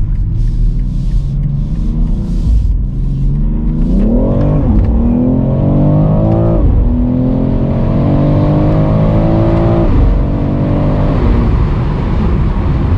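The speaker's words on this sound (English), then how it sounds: "you can see those revs going up and down. Slight burbles, slight crackles." A 2022 BMW X3 M Competition engine revs up and down repeatedly, the rising and falling drone loud and close, with light burbling crackles from the exhaust.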